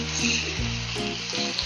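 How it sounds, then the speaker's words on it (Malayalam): Precooked beef sizzles loudly and steadily in a hot pan while being fried into a Kerala-style beef perattu, with a faint melodic tone running underneath. "ഇതിലേക്ക് ഞാൻ വേവിച്ച് വെച്ച ബീഫ് ചേർക്കുകയാണ്."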